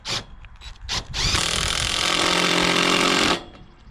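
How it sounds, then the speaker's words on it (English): Power drill driving screws into a wooden greenhouse baseboard: a few short trigger bursts, then one sustained, loud, close whirring run of about two seconds that stops abruptly. "Just gonna put a couple of screws in my baseboard here to hold this in place."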